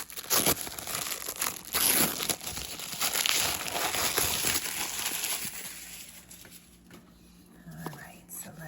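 Trollbeads tissue paper crinkles and rustles in dense, close bursts as a wrapped package is opened, loud for several seconds and then thinning into softer handling noise with quiet rustles near the end.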